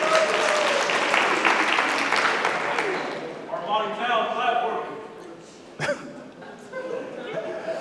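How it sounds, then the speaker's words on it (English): An audience applauds a photographer, dense clapping loud at first and thinning out within a few seconds, followed by scattered voices, chuckles and a sharp knock as the room settles. "Can y'all clap it up for Roger too while he's here"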